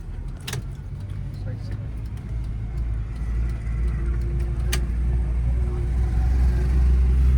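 A car creeps through city traffic on half clutch, its engine giving a steady low rumble that swells slightly as it moves, with a couple of brief clicks and knocks from inside the cabin.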